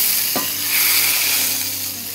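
A tempering (baghar) of hot Shahbaz cooking oil pours into a pulao and hisses with a loud, continuous sizzle that starts with a short burst, with no talking.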